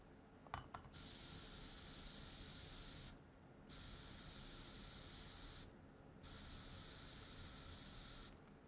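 A spray bottle of Pranarom Roman chamomile hydrosol gives three long hissing bursts, each about two to three seconds, with short gaps between. Faint clicks of the pump come just before the first spray, close by and otherwise quiet.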